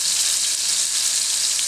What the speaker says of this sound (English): And then I'm gonna sear it on both sides